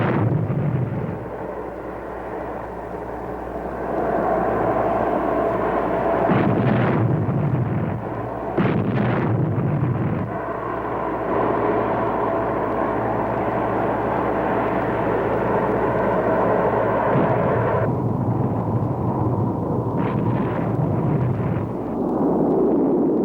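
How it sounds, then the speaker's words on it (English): Enemy artillery fire pounds during the Vietnam War while supply aircraft land, with a continuous engine roar beneath heavy explosive thumps that come every few seconds, loud and close, and no one speaking over it. "Heavy enemy artillery fire makes every landing a game of chance, and some of the planes don't make it."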